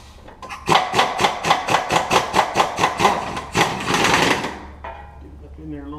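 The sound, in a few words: impact gun running off transfer case bolts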